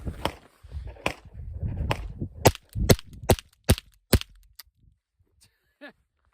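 A Ruger 10/22 .22LR semi-automatic rifle fires a string of sharp, distinct cracks in an irregular rhythm, roughly a dozen shots, close and loud, tapering off into quiet.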